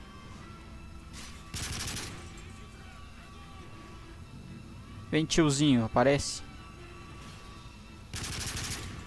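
Short bursts of automatic gunfire from Call of Duty Modern Warfare 3, the mission Hunter Killer, come in separate clusters at the start and end, with someone speaking briefly between them.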